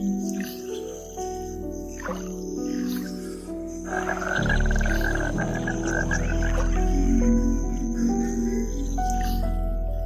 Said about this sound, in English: the vocal frog also provides this watery habitat with its characteristic soundscape